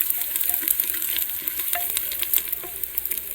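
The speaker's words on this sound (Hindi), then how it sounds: "अब नमक डाल दिया है और इसको अच्छे से मैं फ्राई कर लूँगी" Pumpkin pieces frying in a pan with salt for a kaddu sabzi make a bright, continuous hiss and crackle, with soft stirring scrapes throughout and no talking.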